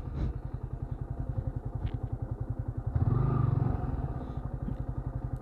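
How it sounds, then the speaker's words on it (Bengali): A heavy motorcycle idles with a steady, rapid thumping beat while being turned around, and a louder surge of engine noise swells briefly partway through. "এখন বাইকটা ঘোরাবো, ঘোরায় বাড়িতে যাব।"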